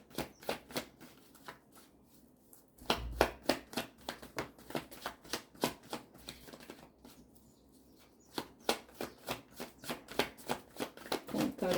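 Osho tarot cards being shuffled and drawn during a reading, a close, rapid rhythmic riffle of card flicks in repeated runs with a short pause between bursts.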